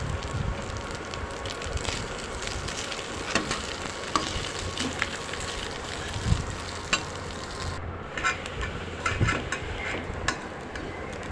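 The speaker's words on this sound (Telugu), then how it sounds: "మనం వండిన అన్నాన్ని ఇలా తాలింపులో వేసేయాలి. వేసేసి బాగా కలుపుకోవాలి" Cooked rice stirred into a hot mango tempering for pulihora, a dense continuous sizzle and frying crackle with scattered stirring scrapes, close and steady with no voices.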